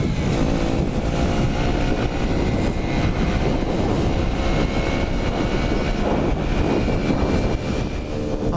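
A Sinnis Apache 125 motorcycle with a DEP System3 exhaust and upjetted carburetor is being ridden, producing a loud, continuous engine drone mixed with rushing wind noise, steady throughout with no speech.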